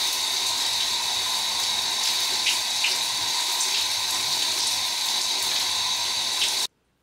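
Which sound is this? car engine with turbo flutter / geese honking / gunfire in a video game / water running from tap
water running from tap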